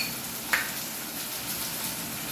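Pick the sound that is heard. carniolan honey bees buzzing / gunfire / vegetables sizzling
vegetables sizzling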